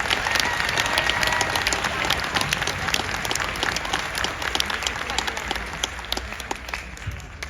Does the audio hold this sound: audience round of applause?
yes